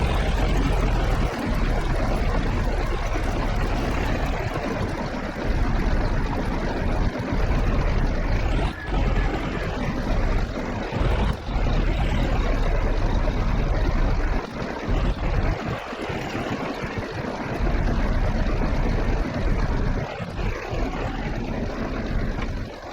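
Steady, loud tractor engine drone while driving across hilly fields in Farming Simulator 22, a continuous rumbling hum with slight shifts in load and a few faint clunks, no talking over it.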